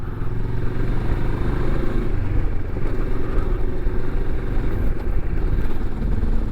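A Moto Morini X-Cape 649 motorcycle rides over dirt, its engine a steady, close low rumble with faint road noise, continuous and without talk.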